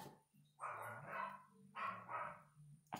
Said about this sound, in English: he hears the dogs barking